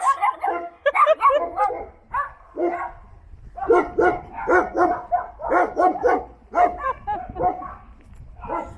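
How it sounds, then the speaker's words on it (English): Dogs bark repeatedly in quick, overlapping volleys, loud and close, with short pauses between bursts. "Don't they make a lot of noise, dogs?"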